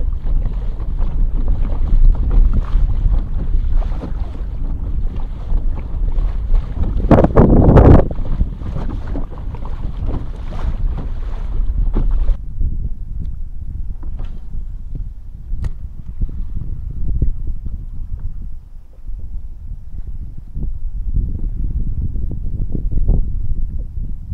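Strong wind buffets the microphone during inshore kayak fishing near pilings, a loud rumbling gust roar that swells sharply around the middle and then eases to steadier blowing, no voices.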